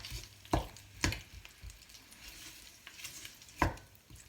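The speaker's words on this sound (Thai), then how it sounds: "ทำการคั่วพริกแกงเราเลย อย่าเปิดไฟแรงนะคะ" Thai curry paste being dry-roasted in a pan over low heat for a chicken and pineapple curry, with a soft faint sizzle broken by a few sharp knocks of a utensil against the pan.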